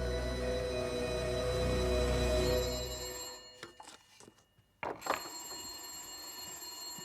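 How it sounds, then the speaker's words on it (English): Telephone ringing in a video game, a loud sustained electronic ring that cuts off partway through, leaving faint clicks and short knocks in quiet background afterward, with no talking. "Why would he answer the phone?"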